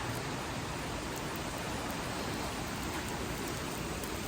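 Steady rain falls just outside an open workshop door, a constant even hiss of drops on surfaces with no gaps, close and fairly loud, with no talking.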